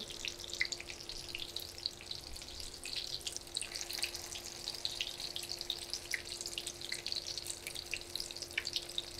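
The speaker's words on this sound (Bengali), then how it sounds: "এখন আমি বেগুনগুলো উল্টে দিচ্ছি আর আমি একটা সাইড দুই মিনিটের মতো ভেজে নিয়েছি অপর সাইডটাও আমি দুই মিনিটের মতো ভেজে নিব" Brinjal slices fry in oil in a pan, giving a soft, steady crackle and sizzle throughout, close and quiet with a faint constant hum underneath.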